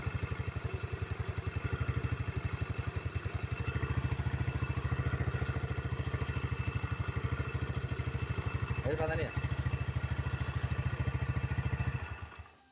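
A Yamaha Mio scooter engine idles steadily at close range with an even, rapid pulse and light mechanical clatter, and near the end it cuts off abruptly into silence.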